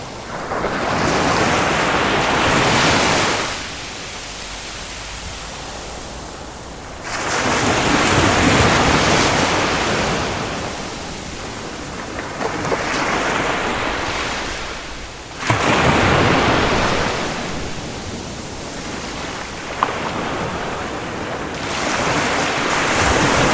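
Sea waves surge and crash in long, loud swells, each rolling in for several seconds before fading, with wind buffeting a Boya Link A-2 microphone placed by the sea, recorded without noise reduction.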